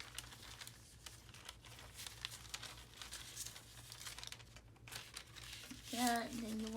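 Paper crinkling and crumpling as it is folded into a small junk journal ephemera booklet, a steady rustle up close, with a brief voice near the end.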